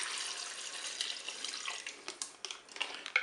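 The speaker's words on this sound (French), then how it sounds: "Je vais maintenant verser mon bouillon" Broth poured into a Cookeo electric pressure cooker holding browned beef and onion, a soft continuous liquid splash that breaks into irregular drips and trickles toward the end, fairly quiet with no voices.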